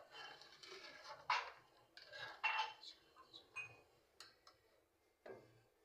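A spoon scoops tea leaves and then sugar while evening tea is being made, giving a few faint, sharp clinks and taps spread unevenly across a quiet kitchen.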